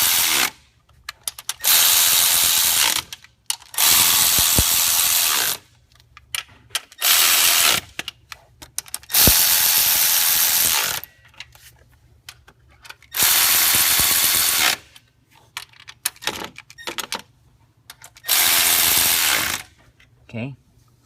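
Nuts being snugged up with a power ratchet on a 6.0 Powerstroke diesel engine during a head gasket install with the cab on, in several loud whirring bursts of one to two seconds separated by short pauses and handling noises.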